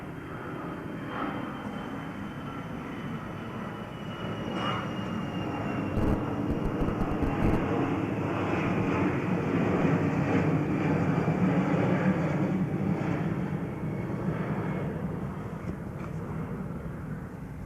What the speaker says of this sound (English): We'll wait for the airplane.